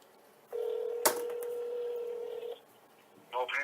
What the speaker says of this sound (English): I just got to type their phone number in